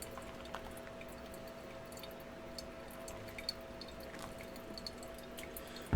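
Hot water trickles over coffee grounds in a pour-over brewer, a soft continuous stream with light dripping and a faint steady hum, quiet and close, with no speech.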